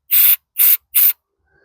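Three loud, even hissing bursts of spray cleaner blasting through the carburetor journal of a Honda lawnmower at a sawmill, each about a quarter second long with short gaps between, close up and without any talking.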